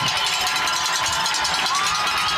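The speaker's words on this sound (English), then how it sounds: "That is JP in the cheering squad here at Red Mountain High" A crowd cheers at a high school football game at Red Mountain High, a loud, dense, continuous roar of many voices with shouts rising over it.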